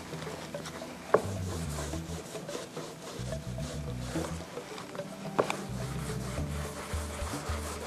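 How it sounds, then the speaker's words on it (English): Cheesecloth rubbing wax over a textured cabinet surface, giving close, continuous scrubbing and rubbing strokes with low rhythmic swishes and an occasional knock, no talk. "I'm just gonna take some cheesecloth, put it in my wax, and then just cover the entire surface."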